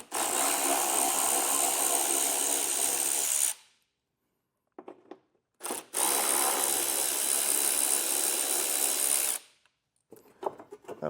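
A power tool ratchets 10mm bolts out of the bumper bracket on a 2021 Jeep Wrangler 4xe, running in two long, loud, close bursts separated by a short pause, with brief clicks of handling after each.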